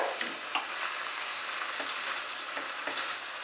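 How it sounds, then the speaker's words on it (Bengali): Chicken being stir-fried with masala on a tawa over medium heat, a faint steady sizzle with light rhythmic scraping strokes, close and quiet, no voices. "মশলার সঙ্গে কিন্তু মেশাতে মেশাতে আমি এটাকে কষাচ্ছি"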